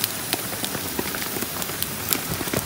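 Light rain patters steadily on a surface, with scattered close drips and taps.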